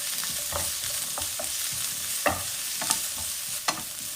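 Ginger and garlic sauté in hot oil with curry leaves for a mango fish curry, a constant close sizzle broken by a few sharp scrapes and clinks of stirring.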